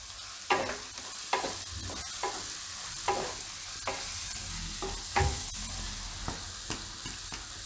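Tuvar curry with coriander leaves stirred in a pan; a soft frying sizzle continues beneath regular scraping stir strokes that come about once a second, with no talking.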